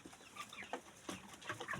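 Backyard chickens kept in a coop house cluck softly in a series of short, irregular calls with steady farmyard background noise and no talking.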